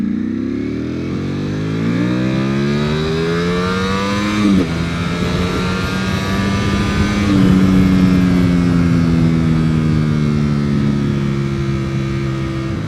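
A Ducati V4R motorcycle engine accelerating hard, its pitch climbing steadily through the gears in long rising sweeps with brief shift breaks, loud and close throughout.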